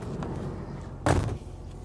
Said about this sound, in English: Let me shut this door